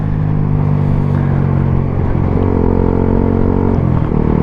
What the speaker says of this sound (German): Wieso geht dein Motor überhaupt hoch?